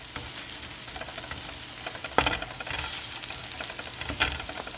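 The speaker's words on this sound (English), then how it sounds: "So now the meat is brown. I'm going to chop it up into small chunks." Browned elk meat chopped into chunks in a hot pan, with steady sizzling and frying and a few sharp knocks of a utensil against the pan, close and alone.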